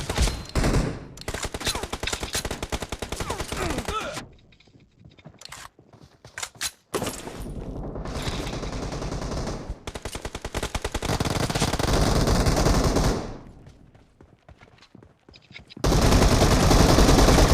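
Bursts of automatic and single gunfire in the shooter game PUBG, loud and dense, with pauses between volleys and a brief quieter stretch before firing resumes.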